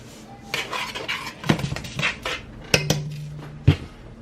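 Utensil scraping and clinking in a bowl as seasoning is mixed into food, several bright knocks and rattles over about four seconds, close and fairly loud with no talking.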